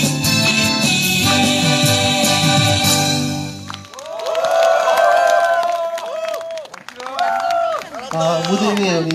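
A crowd at an outdoor candlelight rally claps and cheers after a singing performance, loud scattered applause and shouts rising and falling over several seconds, with an announcer's amplified voice speaking over it.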